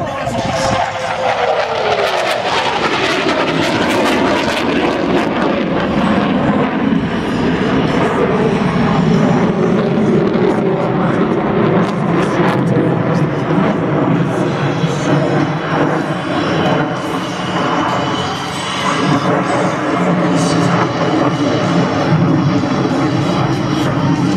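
An F/A-18 Hornet jet roars through a demonstration flight at an airshow, a loud, sustained engine rumble and rush that swells and shifts pitch as it passes, with crowd voices faintly underneath.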